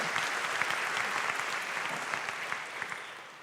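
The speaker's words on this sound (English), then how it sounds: "You can applaud." Conference audience applauding in a large hall, a soft, steady patter of many hands clapping at a moderate distance, with no voices over it.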